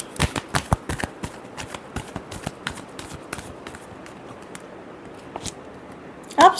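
Tarot cards riffled and shuffled in quick, crisp flurries of papery flicks, dense at first and then trailing off into sparse taps, close and fairly soft with no talking.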